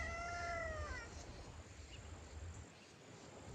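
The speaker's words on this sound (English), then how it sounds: "I don't know where this cat be coming from." A cat meows in the brush outdoors, one drawn-out call near the start, over a steady hiss of insects and background noise.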